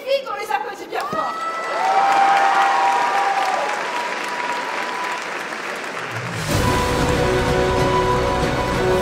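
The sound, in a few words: audience applause for cosplayers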